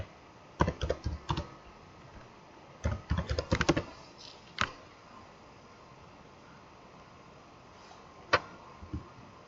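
Soft key clicks come from someone typing a client ID and password on a computer keyboard, in short bursts with pauses between them, quiet and close.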